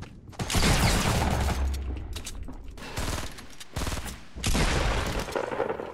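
Video game gunfire: loud, sustained bursts of rapid automatic fire in several long volleys separated by brief pauses, close and dense, with no speech.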